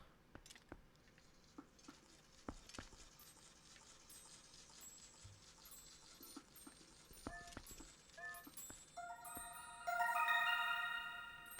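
Horse hooves clip-clopping in the Zelda: Twilight Princess video game, a rhythmic run of soft hoofbeats with game music chimes and effects rising near the end; no talking.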